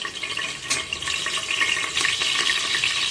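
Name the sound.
chopped green chillies frying in hot oil in pressure cooker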